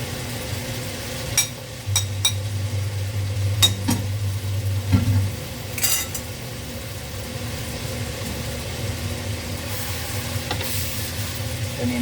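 Sinangag, Filipino garlic fried rice, is stir-fried in a pan with scattered scraping clicks of a utensil over a soft, low sizzle. A steady low hum sits in the background.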